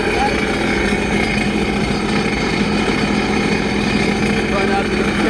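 A Sea-Doo jet ski engine with a modified, no-longer-stock exhaust runs steadily and loudly at close range, a dense continuous roar with a rough low rumble throughout.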